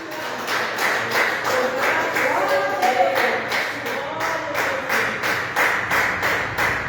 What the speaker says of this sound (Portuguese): Glorifica a Deus com palmas, porque Ele merece